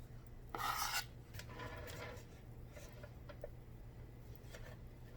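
Frosting crumbs are scraped off a spare bowl with a utensil, making short, close rasping strokes, one louder stroke first and then softer intermittent scrapes, in an otherwise quiet kitchen.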